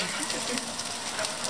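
Rain falling in Akihabara, Tokyo: a soft, continuous hiss of drops with a few faint spatters on top.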